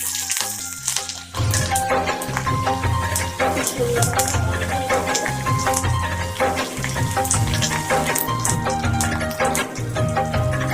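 Curry leaves, poppy seeds and cumin crackle and sizzle in hot ghee, a dense, steady spitting that swells sharply after a quiet first second and stays loud and close throughout.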